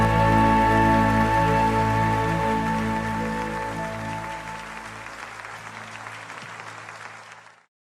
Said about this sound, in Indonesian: Mari bersama-sama kita berikan tepuk tangan yang terbaik hanya buat Allah kita